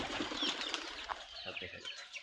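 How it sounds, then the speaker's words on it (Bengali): Pigeons burst into flight with a flurry of wing flaps, close and fairly loud, fading over a couple of seconds amid faint outdoor background. "কবুতর গুলো উড়ে গেল।"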